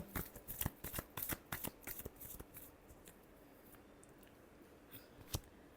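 Tarot cards being shuffled by hand: a quick run of crisp, riffling card slaps, dense at first and then thinning out to a few scattered flicks, close and fairly quiet, with no voice.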